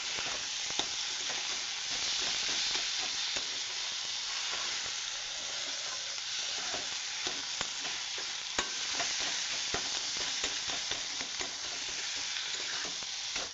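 Onion, chili, radish and potato fry in a hot pan with a steady, close sizzling hiss, broken by small crackles and the scrape of stirring throughout.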